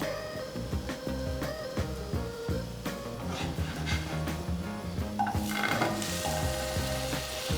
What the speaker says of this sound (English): Use butter to bake it in your very hot pan and use something to cover it all.